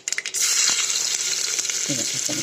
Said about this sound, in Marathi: आधी कांदे भाजून घेते